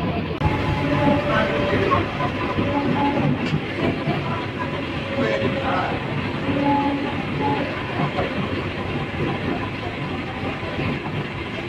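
An air-conditioned local train in Chennai runs along the rails with a steady, loud rumble and a faint rhythmic clatter throughout.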